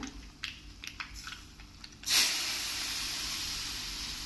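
Hot tempering with asafoetida poured onto taro-root bharit in a village kitchen hits with a sudden loud hiss, then settles into a steady sizzling crackle, after a few quiet handling knocks.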